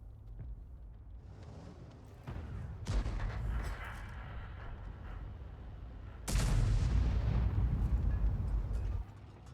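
Artillery shells fire and land in the World of Tanks tank game, heard as deep booming blasts with a long rumbling tail. A loud new burst cuts in near the start and a heavier one follows midway, over steady battle noise.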